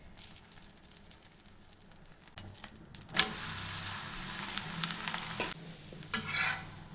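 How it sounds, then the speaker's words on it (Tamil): Moringa stem patty frying in oil in a pan, a steady low sizzle that swells louder partway through with brief scraping or stirring clatters, no voices. "இப்போ சுற்றி எண்ணெய் சேர்த்துக்கலாங்க."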